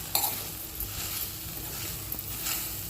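Raw mango chunda with jaggery and sugar cooking over a low gas flame, with a soft steady sizzle under a few scraping spoon strokes against the pan.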